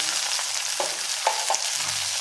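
Tomatoes fry in a pan for a masala fish curry, giving a steady close sizzle with a few soft stirring scrapes.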